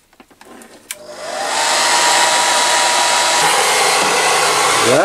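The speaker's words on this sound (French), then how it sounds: "Je vais tester maintenant le sèche-cheveux." A hair dryer powered through an off-grid electrical inverter setup clicks on and spins up to a steady, loud, close whoosh that holds without a break, after a few faint handling knocks.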